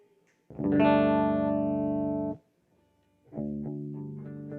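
Two sustained electric guitar notes ring out with distortion and effects, a long held tone, a brief pause, then another as if checking tuning.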